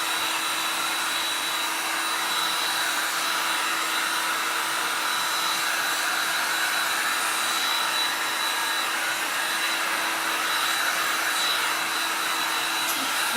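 A hair dryer blowing steadily on a craft project, a continuous loud whine and rushing air held at an even level throughout, with no talk over it.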